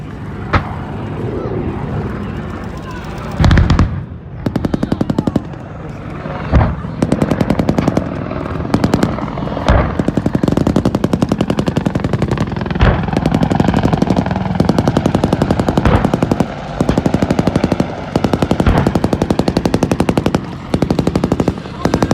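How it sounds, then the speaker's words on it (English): Machine gun fire laid down as suppressing fire by an engineer battalion's support-by-fire position, long sustained bursts of rapid rattling shots, loud and close, broken by brief pauses and occasional heavier blasts. "the enemy fully suppressed by unrelenting machine gun fire"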